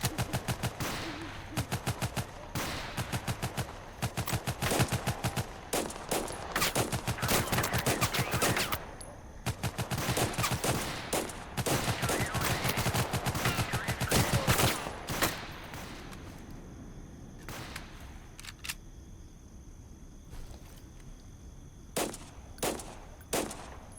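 Dense bursts of automatic gunfire from teammates in the video game Total Conflict: Resistance, rapid volleys crackling almost continuously, then thinning into scattered distant shots and pauses.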